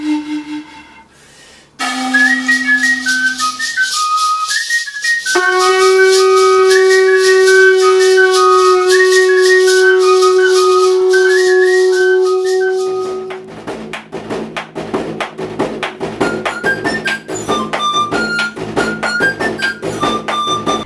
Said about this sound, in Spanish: la historia de estas vasijas silbadoras